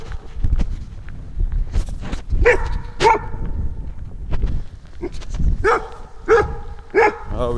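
A dog barks repeatedly at close range in sharp bursts, with footsteps and shuffling between the barks and no talking.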